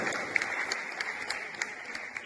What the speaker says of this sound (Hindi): जोरदार तालियों से आप सब